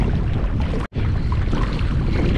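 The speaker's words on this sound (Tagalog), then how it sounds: "mahangin kasi." Steady, loud wind buffets the microphone on a small fishing boat at sea, broken by one brief dropout in an otherwise continuous roar.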